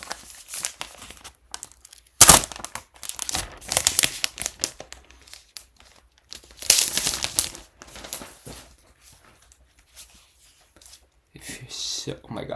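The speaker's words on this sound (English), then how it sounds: "Let's unwrap the plastic now." Protective plastic is crinkled and torn off an Apple Magic Keyboard in loud, irregular bursts of rustling with quieter pauses between.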